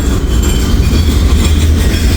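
Slow freight train rolling by close up behind one locomotive, a continuous heavy rumble with soft wheel clatter and occasional light squeal, steady and loud with no talking.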